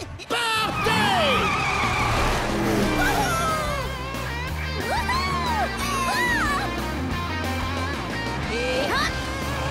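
Blaze and the Monster Machines cartoon race cars roar and speed past with skidding tires and swooping engine whines, loud and continuous, with shouting mixed in.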